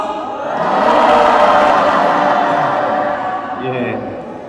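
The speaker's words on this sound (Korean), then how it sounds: "우리 장년부 전체 다 한번 함성 한번 5초간 발사!" A whole church congregation shouts a sustained cheer for about five seconds at an all-generations Sunday worship service, a loud crowd roar that swells, holds, and fades at the end.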